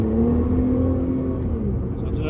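A Nissan GT-R R35 with a GR6 transmission accelerates hard through a turn, its engine a loud, close, continuous drone whose pitch climbs steadily for a couple of seconds.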